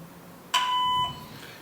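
A single short electronic voicemail beep, a clean steady tone lasting about half a second, fairly loud and alone against a quiet background.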